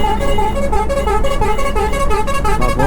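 A loud, sustained horn blares continuously at close range on a highway, with traffic rumbling beneath.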